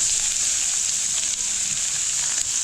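Carrots land in a pan of frying asafoetida and sizzle loudly and close, a steady hiss with no pauses and no talking.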